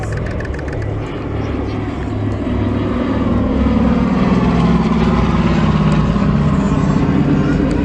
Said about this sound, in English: we've got the beautiful DC-3 or C-47 coming in from the right